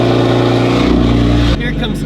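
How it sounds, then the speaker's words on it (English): A car engine roars loudly on a cold start, a dense steady rumble that drops in pitch as it settles toward idle. "Cold start is actually still pretty loud on that thing."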